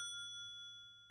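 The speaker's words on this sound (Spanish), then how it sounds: "Suena el teléfono." A cartoon telephone ringing in a Pororo animated episode, a bright sustained electronic ding tone held for about a second, quiet and alone with no talking.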